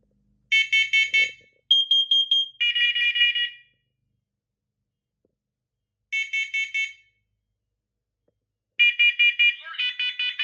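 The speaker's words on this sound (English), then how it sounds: "Wireless units should be alarming in CO in just a little bit" A wireless carbon monoxide alarm on a test board sounds repeated bursts of shrill, rapid electronic beeps in groups, separated by silent gaps, loud and close.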